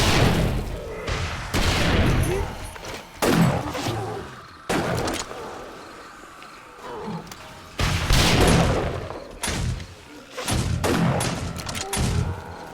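Gunfire from shooting in the video game 7 Days to Die comes in dense, loud bursts and booming fusillades that repeat throughout, with brief lulls between volleys.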